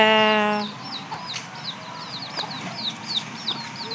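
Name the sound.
chicks peeping beside mother hen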